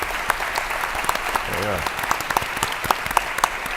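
Audience applause at a panel discussion event on Christian nationalism and public policy: scattered, moderately loud claps throughout, with a brief voice in the middle.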